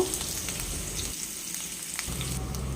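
Chopped onions fry in oil in a pan with a continuous hissing sizzle that stays even throughout. Only faint stirring is heard, and no one speaks.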